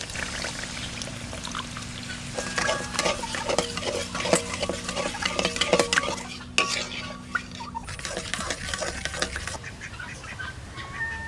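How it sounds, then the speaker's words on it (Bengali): Sour yogurt is stirred into spiced masala simmering in oil for a village-style hilsa pilaf. Soft scraping, stirring and faint clinks of a utensil against the pot come through quietly, with birds faintly in the background. "এবার দিয়ে দেবো টক দই।"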